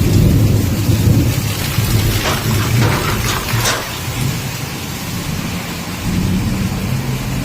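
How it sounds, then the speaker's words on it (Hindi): A heavy downpour during a thunderstorm outside a home: a loud, steady roar of rain hammering surfaces, with deep thunder rumbling through it and no one speaking. "आज हमारे इधर इतना तूफान आ गया है, जोर जोर से बारिश हो रही है"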